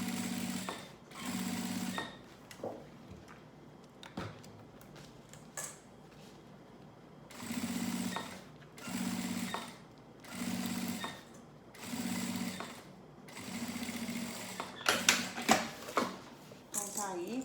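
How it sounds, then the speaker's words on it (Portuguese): A sewing machine stitches the lining edge of an insulated school lunch bag in several bursts of rapid whirring, separated by pauses with light handling clatter and someone talking. "sempre alinhando aqui a borda do material, a beiradinha do material principal com a beiradinha do forro"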